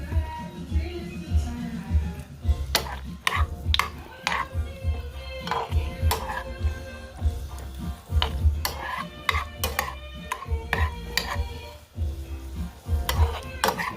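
A spoon stirs pineapple brown sugar glaze in a pan, with scattered metallic clinks and scrapes against the pan over a faint sizzle and low background noise.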